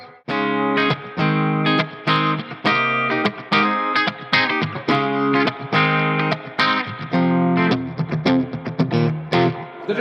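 Electric guitar through a Marshall amp with its built-in reverb, strummed chords in a steady rhythm with a washy ringing tail, loud and with no voices.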